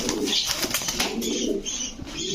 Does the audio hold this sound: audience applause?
no